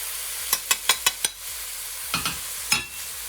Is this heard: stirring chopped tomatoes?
yes